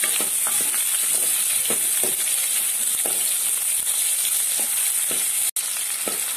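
Steady oily sizzling and crackling of garlic and dried red chilies frying in a pan, continuous and close, with a few soft stirring clicks and no talking.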